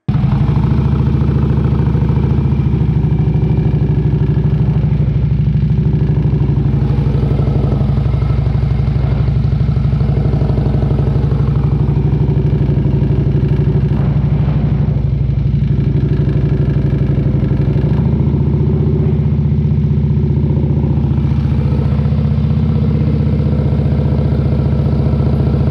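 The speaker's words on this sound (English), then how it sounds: "You need to listen to your bike. It will let you know if it needs more throttle." A motorcycle engine holds a steady, constant throttle through slow-speed turns, a loud continuous low hum with a slight clatter and no talking.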